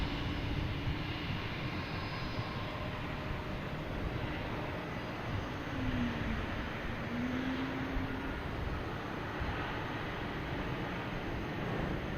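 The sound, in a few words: FedEx MD-11 jet aircraft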